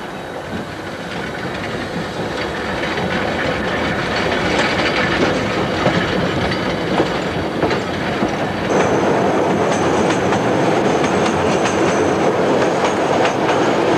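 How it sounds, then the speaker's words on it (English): Steam locomotive KA942 shunts its train at Parnell Depot, a loud, close, continuous rumble of wheels and couplings with rhythmic clacking over rail joints and a hiss of steam building toward the end. "KA942 shunts her train out onto the main and down to number 7 platform"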